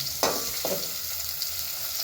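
Onion tempering frying in a pan before bitter gourd goes in, a steady close sizzle with two brief scraping stirs early on, otherwise continuous hiss.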